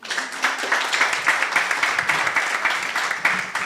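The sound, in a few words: audience applauding panelists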